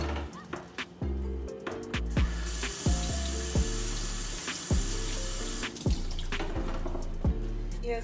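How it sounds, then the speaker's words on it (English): Kale is rinsed under a running kitchen tap: a steady hiss of flowing water rises and falls across the clip, with music playing throughout. "I'm gonna wash it off real quick."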